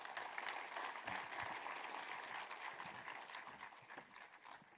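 Steady applause from a crowd at a film trailer launch event, a dense patter of clapping that holds throughout and eases slightly toward the end, heard from some distance.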